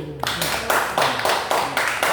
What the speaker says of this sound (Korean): 이 수박을 이렇게 자르시고 이렇게 손봐주신 우리 사모님께 감사의 박수.